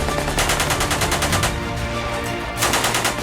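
An M240 machine gun fires in sustained rapid bursts, a dense loud rattle of shots with a short lull near the middle before firing resumes.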